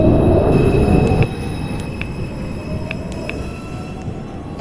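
A New York subway 5 express train rolls into a station with a loud rumble that drops in level partway through, and sharp metallic wheel squeals ring out repeatedly over the rolling noise.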